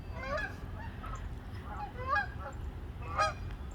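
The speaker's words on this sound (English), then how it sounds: "Geese flying." A flock of geese flies overhead honking, several distinct calls in irregular bursts, fairly faint and distant over a low outdoor rumble.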